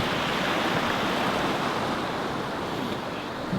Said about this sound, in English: There is the river close by.